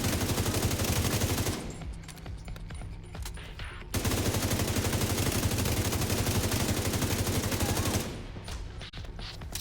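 Rapid, sustained assault rifle fire in The Division 2, loud bursts with a brief pause between them and a light voice now and then underneath.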